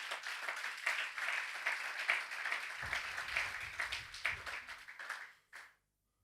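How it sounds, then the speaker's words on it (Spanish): Applause from a church congregation during a sermon, a dense wash of many hands clapping steadily for about five seconds before fading out quickly. "Dale un aplauso al Rey"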